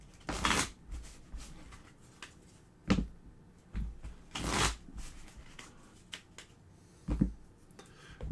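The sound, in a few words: shuffling a deck of game cards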